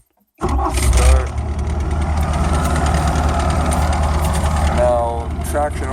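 A Bobcat S185 skid steer's engine cranks and catches, then settles into a steady, loud idle with a deep continuous rumble that runs nearly the whole time, with a brief surge near the start.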